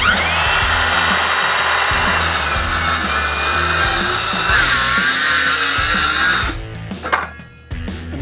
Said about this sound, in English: Making plunge cuts with your ExacTrack saw is very simple and easy.